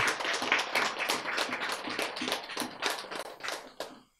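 A lecture audience claps for a few seconds, a dense patter of separate hand claps at moderate distance that thins out and stops near the end, with no talk over it.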